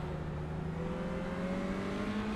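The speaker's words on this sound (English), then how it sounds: "Look at the way Sam's car is limping back" A damaged race car in a racing video game at the Okayama circuit limps along, its engine droning steadily with a low, even tone that slowly rises in pitch, loud and continuous, no talk.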